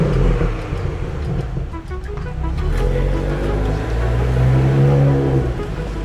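A 2017 Audi S5 on the road, its engine a steady, fairly loud drone with rising and falling harmonics as it pulls through the gears, tyre and road rumble underneath, and no clear talk.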